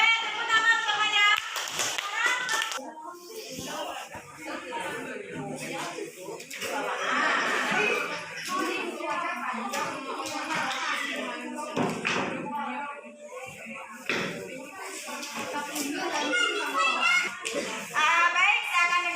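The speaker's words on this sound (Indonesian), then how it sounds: "Tepuk tangan semuanya" Schoolchildren in an Indonesian classroom clap together amid lively chatter and laughter, the uneven patter of small hands mixing with kids' voices and thumps for the whole stretch.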